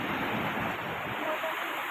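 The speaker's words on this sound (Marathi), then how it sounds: "माझ्या मागे हा समुद्र" Sea at a quiet beach at sunrise, heard as a steady broadband wash of surf with some wind noise on the microphone, continuous and fairly close, with no voices.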